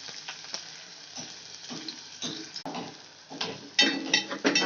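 Mustard seeds, cumin and onion frying in hot oil for a tempering, a steady low sizzle with scattered crackles and pops that swell louder and busier toward the end, no talking.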